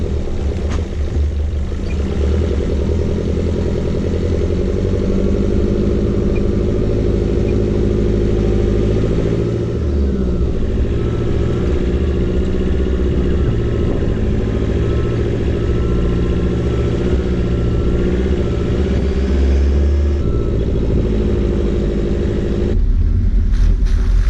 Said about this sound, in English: And the engine braking do all its work.